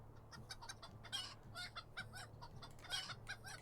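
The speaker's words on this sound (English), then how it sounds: "I can't take that chicken noise" Chickens in a video game clucking and squawking in repeated short bursts, quiet and somewhat distant, with no talking over them.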